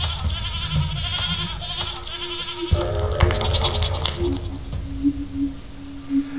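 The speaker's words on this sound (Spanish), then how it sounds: "El fantasma de una cabra, por lo visto." A ghost goat bleats in the Sally Face video game, giving several wavering, drawn-out cries over an eerie ambient background, moderately loud and close, with a faint voice underneath.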